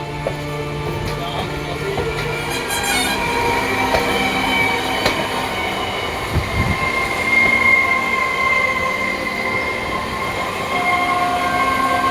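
The Hazarduari Express rolls through near Naihati station, wheels clattering and squealing on the rails in a steady close rumble, with a brief horn-like tone early on and no voices.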